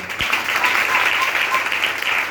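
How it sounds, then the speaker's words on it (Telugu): A church congregation claps loudly together in a dense, sustained burst of applause filling the hall for a couple of seconds. "చప్పట్లు కొట్టండి ఒకసారి గట్టిగా."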